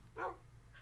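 A dog in the Minecraft video game gives a single short, soft bark, faint over a low steady background hum, followed by a fainter trailing yip.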